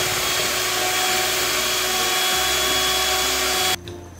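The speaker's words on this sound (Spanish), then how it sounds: "Hay que batir por 10 minutos." An electric mixer beats eggs for a tres leches cake with a loud, steady motorized whir whose pitch shifts slightly, then cuts out abruptly near the end, leaving faint room noise.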